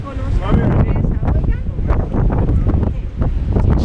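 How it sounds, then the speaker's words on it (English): A cold, strong wind on a volcano trail in Puracé National Park, Colombia, buffets the microphone in constant loud rushing gusts, with someone speaking under it. "It's a cold wind."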